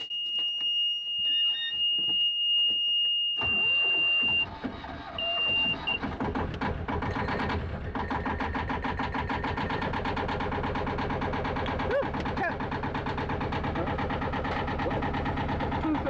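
A boat's diesel engine starts after a high alarm-like beeping tone and then runs loud and close with a steady, rough rumbling throb that continues unbroken to the end.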